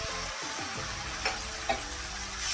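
Curry for doi katla, with tomato paste added, sizzling in a pan as it is stirred, a dense continuous frying hiss with a couple of soft scrapes, close by.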